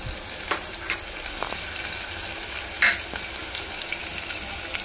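Green chillies, onion and curry leaves fry in a pan with a steady, close crackling sizzle and a few sharp stirring clicks and scrapes, no voices, for an egg tomato curry.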